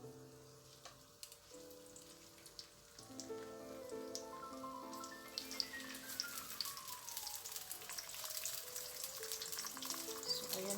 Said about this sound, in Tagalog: And then, ipiprito natin yung ating ham.